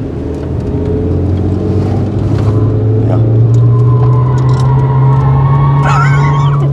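Opel car driving in fourth gear on an incline, a loud steady engine drone from inside the cabin that rises slightly in pitch, with a brief squeak near the end.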